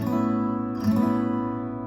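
One sustained guitar chord rings out with open strings droning, steady and close, fading slightly as it holds.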